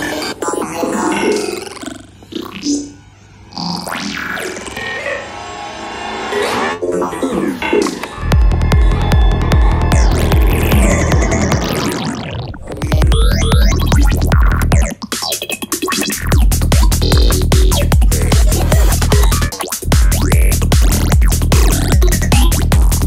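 Traktor classic delay effect running without sync, starting with sparse swirling echoes that give way to a loud, steady, throbbing electronic pulse, with one brief dropout midway.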